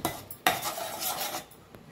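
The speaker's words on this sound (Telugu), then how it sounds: "ఇది చాలా దగ్గరగా అయ్యేంత వరకు ఇలా కలుపుతూనే ఉండాలండి లేదంటే అడుగున అంటుకుపోతుంది" A utensil scrapes and clinks against a pan while a mango pudding mixture is stirred, a short burst of close metallic scraping with a sharp knock near the start.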